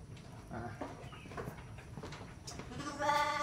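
A sheep about to give birth bleats in a livestock pen, a few wavering bleats with the clearest and loudest at the end, over faint background noise and murmuring voices.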